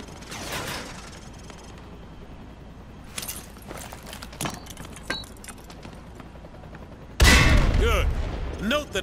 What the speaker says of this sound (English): Toss the grenade down the range to take out several targets at once.